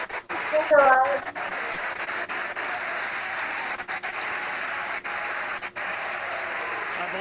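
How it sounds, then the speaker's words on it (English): A crowd cheers at the SpaceX Crew 3 launch as a broadcast commentator talks over it, the cheering forming a steady background roar with a louder burst near the start. "the cheering in the background"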